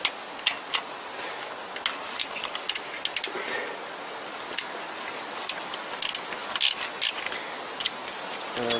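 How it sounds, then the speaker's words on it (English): A wrench ratchet clicks while loosening engine bolts during a Toyota timing chain check, giving sparse, irregular light ticks that come close and clear over a quiet room. "I use that kind of wrench tool."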